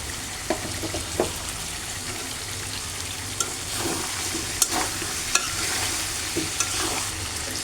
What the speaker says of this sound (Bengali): আমি এখন কিছুটা কাঁচামরিচ আর পেঁয়াজ দিয়ে দেব, এর সাথে ভালো করে ভেজে নেব।